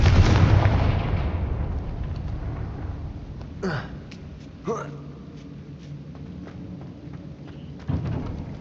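A Confringo blasting spell goes off in the Hogwarts Legacy video game, opening with a loud booming explosion that fades into a rumbling decay, followed by a few lighter impact pops.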